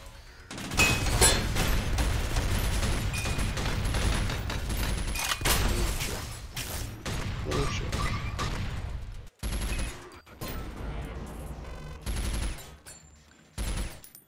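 Gunfire and exploding enemies in the video game Synthetik: dense bursts of rapid shooting mixed with booms that come in several loud waves, broken by brief sudden silences, with no speech over them.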